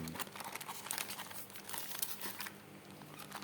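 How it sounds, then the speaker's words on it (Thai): A plastic bag crinkles steadily and up close as a boxed metal Soul of Chogokin GX-33 Spider-Man Leopardon robot toy is unpacked, with dense rustling bursts and no talking. "มีถุงพลาสติกเช่นเดิม"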